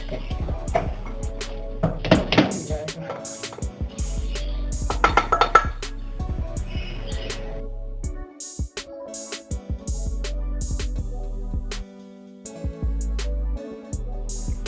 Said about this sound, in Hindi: अब मैं इसको डिश आउट करके दिखाती हूँ।